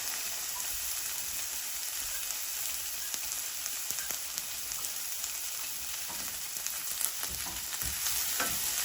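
Sardines frying in a pan with a steady, broadband sizzle and crackle throughout, a few scrapes of stirring, fairly close and alone with no talk.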